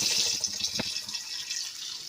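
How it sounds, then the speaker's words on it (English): Cold tap water runs steadily from a faucet into a container at a sink, a close, continuous hiss and splash with a small plop partway through, no voices. "So we have cold water going in here."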